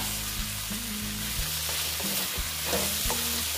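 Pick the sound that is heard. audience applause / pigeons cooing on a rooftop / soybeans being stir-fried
soybeans being stir-fried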